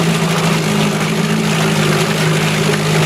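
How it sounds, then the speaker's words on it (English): A 1970s 4 hp Yachtwin boat motor runs close by, holding a steady, even idle hum with no misses or sputters. "It doesn't miss, it doesn't backfire, it doesn't smoke. This is a solid running, good engine."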